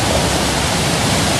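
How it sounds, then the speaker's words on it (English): Waterfall on the South Shore of a lake in the Pine Barrens, a steady broadband rush of falling water, close and even, with no voices. "Nice waterfall."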